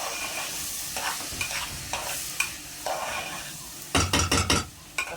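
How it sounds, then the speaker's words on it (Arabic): Chicken pieces frying in ghee are stirred in a pan, giving a steady close sizzle with repeated scraping strokes and a burst of sharp clattering knocks near the end. "افضل اقلب فيهم كده لحد لما يخشوا مع السمن"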